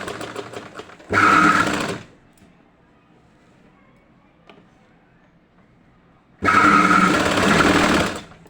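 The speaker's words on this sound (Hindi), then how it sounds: "इस कट को यहाँ बीच में रख के अब यहीं से सिलाई शुरू कर देनी है।" An electric sewing machine stitches salwar fabric in two close, loud whirring runs, one short and one longer, separated by a quiet pause, with a voice talking briefly before the first run.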